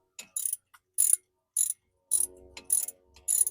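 A ratchet wrench loosens a brake caliper bolt on a Nissan Quest with a series of short, close clicking bursts separated by brief pauses, plus a faint mechanical rattle between strokes.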